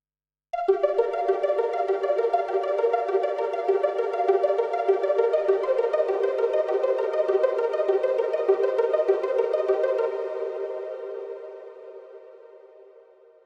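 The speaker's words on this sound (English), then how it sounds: "This is the sound with reverb." A synthesized sustained tone drenched in lush reverb inside Logic Pro X swells in suddenly, holds a rich, shimmering chord-like wash for about ten seconds, then fades slowly into a long decaying tail, with no voices.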